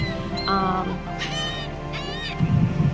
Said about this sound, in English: My daughter was feeding the birds behind me